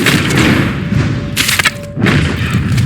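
In Red Dead Redemption 2, a bow arrow strikes an animal with a heavy close thud, followed by a second impact, over dense loud game ambience.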